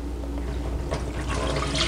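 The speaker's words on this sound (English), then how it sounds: "take out that water at the top so we can see that starch goodness" Water being poured off the top of settled pap starch (akamu/ogi) in a home kitchen, a steady liquid rush that swells and grows louder partway through, heard on its own without talk.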